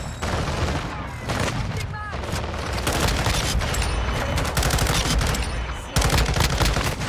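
M13C rifle gunfire in Modern Warfare 2, loud rapid automatic bursts fired repeatedly with sharp cracks and booming impacts, a voice talking over the shooting.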